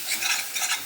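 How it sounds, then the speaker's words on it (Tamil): Ground masala being stirred into chicken rasam in a pot, with a steady scraping swish that repeats in two close strokes over a soft background sizzle, near and moderately loud, no voices. "நல்லா மிக்ஸ் பண்ணிக்கோங்க."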